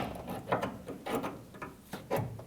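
A plastic cable clip is pried off the tailgate of a 1997-2003 Ford F-150, giving a few close, sharp clicks and scraping snaps spread over a couple of seconds with no talking.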